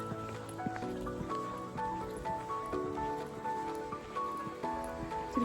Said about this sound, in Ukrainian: О, коні.